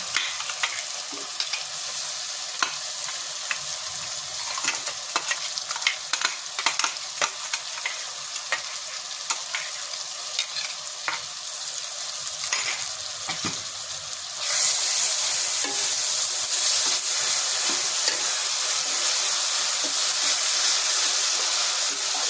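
A coarse garlic and ginger paste fries and is stirred in a hot pan for a Bengali young-jackfruit curry. It gives a steady close sizzle broken by scraping stirs, and the frying grows louder and brighter about two-thirds of the way through.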